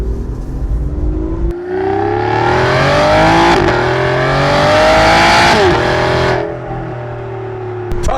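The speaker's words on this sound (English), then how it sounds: "I wonder what 0 to 60 on the Zagato shooting brake would be." Aston Martin Vanquish Zagato Shooting Brake with a 580-horsepower V12 accelerating hard, a loud rising engine note climbing through the gears with brief shift breaks, heard close from inside the car.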